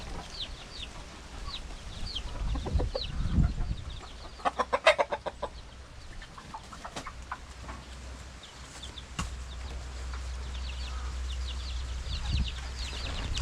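Soft clucking of a native hen close by, mixed with faint chirps and peeping of small birds over a low background hum.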